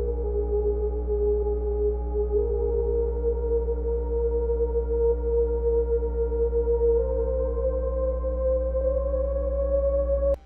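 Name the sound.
added melody in a remix production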